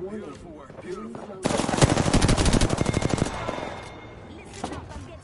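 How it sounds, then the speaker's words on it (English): Rapid automatic gunfire in the Apex Legends battle royale game, a loud sustained burst of tightly spaced shots lasting about two seconds and then tailing off, with game chatter around it. "Listen up, I'm getting shot at."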